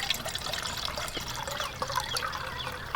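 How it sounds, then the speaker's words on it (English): Water being poured into a metal canteen cup, a steady thin trickle with small splashes, quiet and heard alone. "We're going to put a little bit of water in there."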